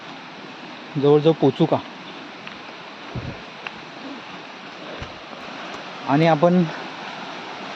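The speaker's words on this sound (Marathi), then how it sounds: "पाण्याचा तर आवाज येतोय" A waterfall hidden in dense forest near Kalambaste, Sangameshwar in the Konkan gives a steady, broad rushing hiss that runs the whole time, with two short bursts of people talking over it.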